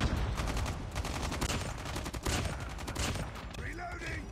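Rapid automatic fire from the BK57 assault rifle in Call of Duty Mobile, a dense, fast stream of shots running steadily throughout with little pause, loud and close.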